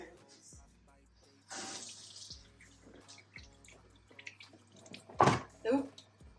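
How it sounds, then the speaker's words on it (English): A kitchen faucet runs during handwashing while baking vegan chocolate brownies, soft intermittent water flow with a brief louder splash near the end, along with faint clinks and low background hum. "Now I'm gonna wash my hands."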